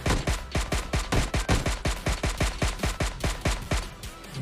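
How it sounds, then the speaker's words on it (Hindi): In the PUBG battle-royale game, a suppressed weapon fires a steady automatic stream of muffled cracks at about five rounds per second for over four seconds, moderately loud and with no voices. "सप्रेसर के साथ गोलियां चल रही हैं"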